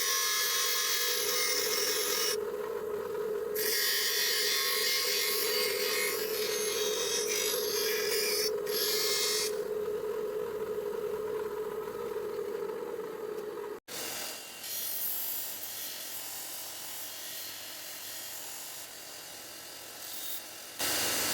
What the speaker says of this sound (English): So we'll go and grind that now.